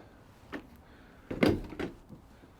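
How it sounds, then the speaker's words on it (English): A few close knocks and a clattering rattle as the heavy twin rear barn doors of a Ford Transit Custom van are swung open, with a short metallic clunk afterwards and quiet between. "you can also open the doors out like so"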